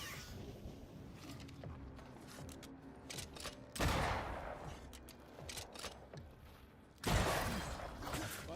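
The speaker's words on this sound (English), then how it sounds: "That corpse is gonna shoot." Gunfire from a shooting corpse in the dark-fantasy game Banishers: Ghosts of New Eden, heard as a steady crackle of shots with two louder bursts, the last near the end.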